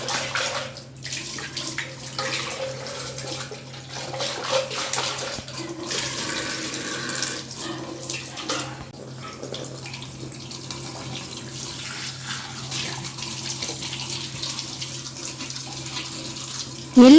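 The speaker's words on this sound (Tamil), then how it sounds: "மற்ற டூல்ஸ் எல்லாமே இந்த மாதிரி தண்ணியில் நல்லா அலசிட்டு வெயிலில் காய வச்சுக்கலாம்" Water runs steadily over vacuum cleaner attachments as they are rinsed, making a continuous splashing, gurgling rush that shifts slightly as the pieces move under the stream. No one speaks.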